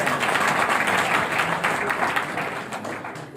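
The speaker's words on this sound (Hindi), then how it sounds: "एक बार जोरदार तालियां इनके लिए हो जाए" An audience claps loudly and steadily, a dense wash of applause that fades slightly toward the end of the short stretch.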